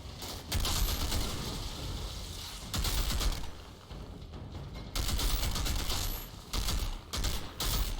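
Gunfire bursts from a Technomancer's deployed turret in the shooter game Outriders, rapid loud volleys in several clusters separated by brief lulls, with a dense noisy battle backdrop throughout.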